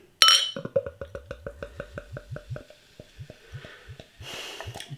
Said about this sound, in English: Let's get the beer out into a glass,